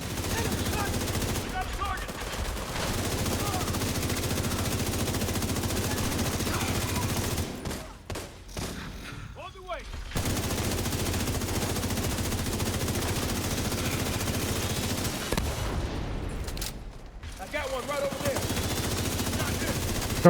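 Shock-round gunfire in a co-op shooter game blasts in long, dense automatic bursts for most of the stretch, broken by two brief lulls, with faint voice chat underneath.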